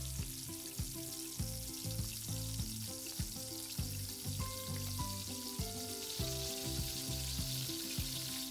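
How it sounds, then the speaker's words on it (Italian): Steady sizzling and crackling of tortelli di Carnevale batter frying in oil at 160 to 170 degrees, close by, with a few soft clinks and taps from spoons over the constant frying hiss. "L'impasto è pronto, possiamo friggere."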